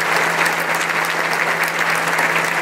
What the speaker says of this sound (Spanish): les pedimos también un fuerte aplauso para todos y cada uno de ellos